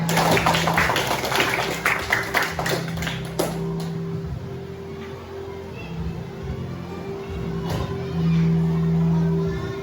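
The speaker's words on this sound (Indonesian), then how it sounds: "Boleh tepuk tangan." Students in a classroom give a brief round of scattered hand clapping that tapers off within a few seconds, leaving a quiet room with a steady low hum.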